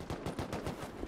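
Automatic gunfire aimed at a turret in the survival game Rust, a quick, fairly faint rhythmic burst of about eight shots with no speech.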